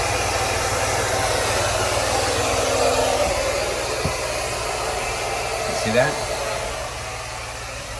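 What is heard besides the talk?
hair dryer running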